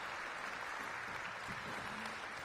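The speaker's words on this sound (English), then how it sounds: "Give Chairman Mendelson a big round of applause." A crowd at an outdoor city summer programming event applauds Chairman Mendelson with steady, moderately distant clapping that stays even for the whole moment.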